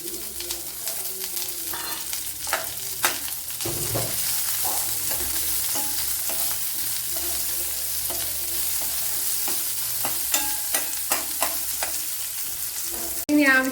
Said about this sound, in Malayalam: ഇതിലേക്ക് 10 കൊച്ചുള്ളി ഇട്ട് കൊടുക്കാം.